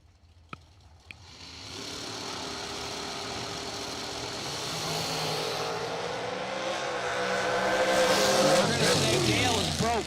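Drag racing cars at a bracket racing event sit idling, then launch and roar down the strip, engine tone climbing steadily and growing louder toward the end, with an announcer talking over it.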